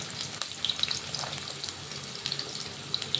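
Onions and green chillies fry in a hot pan, giving a quiet, continuous crackling sizzle sprinkled with small bright pops and spits, close by and with no voices.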